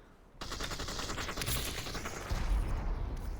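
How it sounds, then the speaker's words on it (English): A grenade explodes amid gunfire in the Population: One video game: a sudden loud onset into dense, rapid bursts of shots, with a heavier booming blast near the end, all close and sustained. "Ooh, nice nade by Rad Fox."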